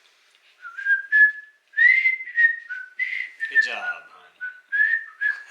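A person whistles a short bright melody of several rising and falling notes, close and clear, with a brief spoken phrase near the start.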